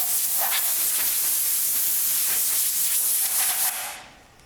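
Compressed air blows steadily onto a car body during bodywork restoration, a loud continuous hiss holding for about four seconds before cutting off and fading.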